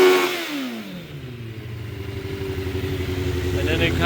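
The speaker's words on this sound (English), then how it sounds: "But I'm gonna rev it now" A 2006 Suzuki GSX 600F Katana with carburetor trouble is revved up from idle, the engine note sliding down then climbing into a rising, rough, pulsing drone close by, with a person talking near the start.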